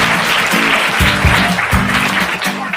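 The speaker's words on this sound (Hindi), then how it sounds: "जोरदार तालियां हो जाए भाई।" Loud applause from a game-show studio audience, a dense steady clatter of clapping layered with bright musical stings and bass hits throughout.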